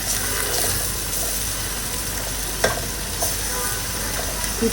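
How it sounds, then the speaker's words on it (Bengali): Spice paste and onions sautéing in a pan, a steady loud sizzle with occasional scrape and stir clinks throughout. "এখন মশলাটাকে ভালো করে কষায় নিব পেঁয়াজের সাথে"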